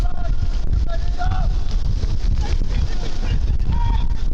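A gust of wind buffets the microphone at Priory Lane during an Eastbourne Borough v Braintree Town National League South football match, a loud, steady rushing roar that lasts throughout.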